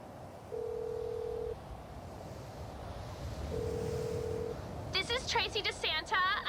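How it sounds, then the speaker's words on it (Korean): A phone call in the video game GTA 5 rings out unanswered as two long, steady ringback tones separated by a pause, followed by someone speaking. "우리 트레이시 이 새끼는 전화도 안 받네."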